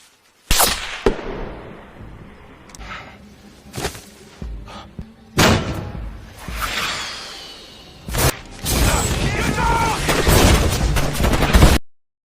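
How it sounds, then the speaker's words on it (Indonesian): A film gunfight with rebels brings sharp, loud bursts of gunfire mixed with whooshes and heavy thuds, scattered through the scene and building into dense, continuous chaos toward the end. "baku tembak pun tak terelakkan"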